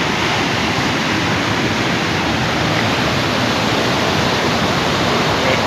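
River water flows at Head Panjnad, a loud, steady broadband rush of current that continues without a break and with no voices over it.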